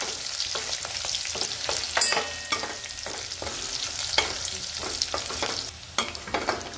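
Green chillies sauté in a little hot oil in a pan, making a dense crackling sizzle. Frequent sharp scrapes and taps from a spoon stirring against the pan come through close up, with no talking.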